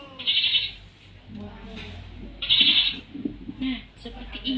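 A goat bleats several times in close, wavering cries, with a person talking between and over the calls.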